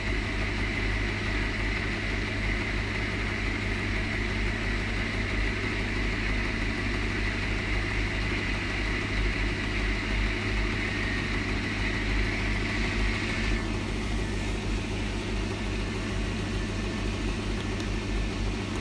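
A Hotpoint HE7L492 washing machine on a cotton standard 20 darks cycle spins at 300 RPM, giving a steady, continuous mechanical whir and hum that stays even throughout, with no voices.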